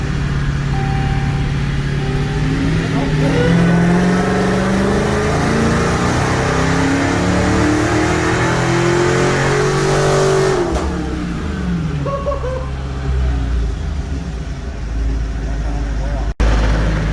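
A Dodge Hellcat making a dyno pull revs hard, its engine note climbing steadily for about ten seconds before dropping off and settling to idle, with voices talking underneath.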